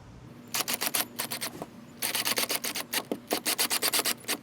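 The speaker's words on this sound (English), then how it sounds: "And now I'll apply some marine silicone sealant." Marine silicone sealant squeezed from a caulking gun while fitting a VHF antenna on a boat, giving rapid close rasping clicks in quick trains separated by short pauses.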